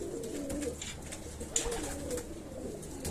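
Pigeons cooing in a loft, soft low rolling coos repeating close by over a steady background hum, with no voices.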